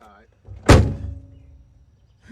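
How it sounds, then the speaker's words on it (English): A car door slammed hard once as a prank, a loud close thunk with a brief ringing decay, followed by quiet. "Why you slamming the door like that?"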